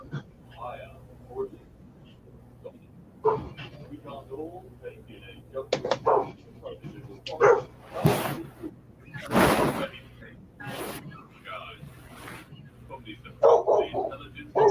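A pet dog barks and yips in short bursts across a live chat, loud and close at moments, with someone talking throughout and a steady low hum underneath.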